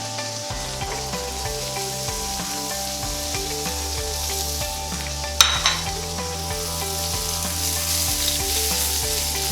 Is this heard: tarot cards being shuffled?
no